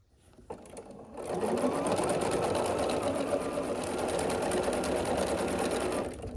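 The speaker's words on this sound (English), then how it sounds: "I'm just going to continue adding these and sewing these on" A sewing machine stitches quilt pieces together, starting after a brief moment of quiet and then running steadily and evenly at close range for several seconds before slowing to a stop.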